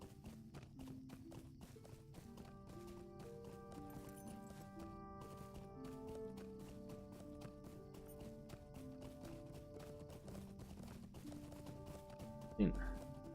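Horse hooves clip-clop in a steady trotting rhythm in the Lord of the Rings Online video game, under background music with sustained tones, fairly faint, ending with a brief louder thump.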